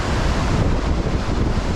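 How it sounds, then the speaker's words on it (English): Powerful Niagara River water rushing at Whirlpool State Park's Stone Flats in July, a loud, steady broadband roar with wind buffeting the microphone and no voices. "Powerful Niagara rushing behind us."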